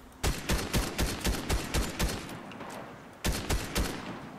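Rapid gunfire in a battle-royale-style video game as a player shoots at an enemy, two quick bursts of evenly spaced shots separated by a short pause, loud and close.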